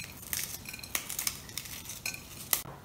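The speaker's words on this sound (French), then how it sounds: "Première étape, on émiette nos biscuits." Biscuits crumbled by hand for a crumble dessert give quiet, close, irregular dry crackles and crunches, with small bursts spread over a few seconds and no talking.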